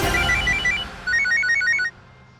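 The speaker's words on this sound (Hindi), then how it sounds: "उन्हीं का फोन है" A telephone rings in a household scene, two bursts of rapid electronic trilling tones, fairly loud and near, stopping abruptly after the second ring.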